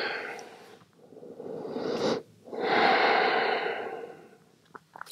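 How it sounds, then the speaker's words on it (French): Slow, deep breaths held in yoga child's pose: long audible inhales and exhales with a wheezy, airy texture, close to the microphone, alone without talk. "Tu prends 5 belles respirations ici."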